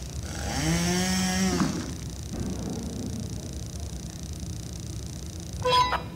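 A mechanical drill from the Henry Stickmin video game whirs at a rising then steady pitch for over a second, followed by a low humming background and a brief metallic clink near the end.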